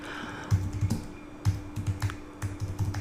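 Keys clatter on a computer keyboard in short bursts of quick taps with brief pauses between them, close by, against a faint steady hum.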